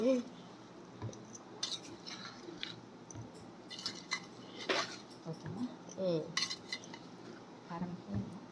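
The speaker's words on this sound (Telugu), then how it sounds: "ఇలా చక్కగా మొత్తం అన్ని పట్టేసుకునేలాగా మిక్స్ చేసుకొని" Mango pickle (avakaya) being mixed in a dish, with soft scraping and clinking of a spoon against the vessel in irregular bursts, fairly quiet and close.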